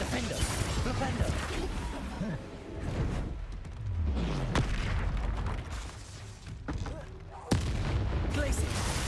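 Fiery Confringo spell blasts cast during a troll fight in Hogwarts Legacy, sharp booming bursts recurring amid dense combat noise, with one hard crack standing out near the end.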